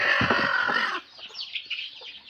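Native village hens and their chicks cluck and cackle loudly up close for about a second, then quieter scattered clucks and peeps continue nearby.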